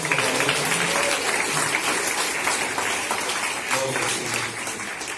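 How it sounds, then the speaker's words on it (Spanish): A church congregation gives loud applause, a dense and steady wash of many hands clapping that holds for several seconds without fading. "Damos un fuerte aplauso y tome su asiento."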